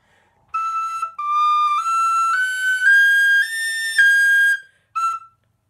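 A tin whistle plays Daly's Polka, a bright, lively dance tune, the notes running in quick phrases with a short pause before one final note. No voices are heard.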